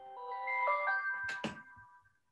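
A mobile phone ringtone plays a short melodic phrase of bright sustained tones, loud and close, fading out after about two seconds with no voices over it.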